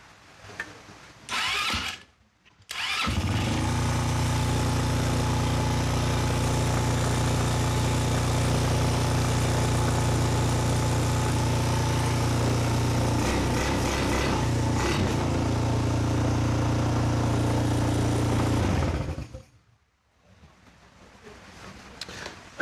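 A Chinese quad's engine revs high and steady for most of the clip, a loud buzzing drone with rattling mechanical clatter, dipping briefly near the middle and cutting off toward the end.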